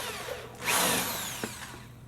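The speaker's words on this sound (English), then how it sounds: "Now we're just going to drill holes." A power drill bores holes in a racing seat frame for a computer gaming chair, a faint whine that rises in a short burst and then tapers off, followed by a small knock.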